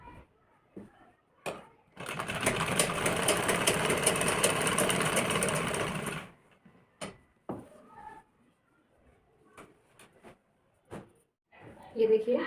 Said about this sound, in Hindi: बिल्कुल किनारे किनारे पे से सिलाई मार लेंगे